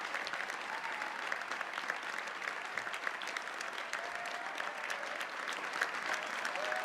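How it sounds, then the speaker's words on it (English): Audience applause in a large hall at the Ubisoft Forward games showcase: dense, continuous clapping from a big crowd, steady and moderately distant throughout. "The crowd is clapping"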